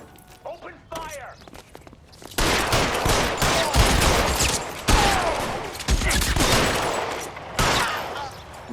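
Gunfire in the video game L.A. Noire, a burst of rapid shots and sustained volleys ringing out loudly over several seconds after a quieter opening with voices.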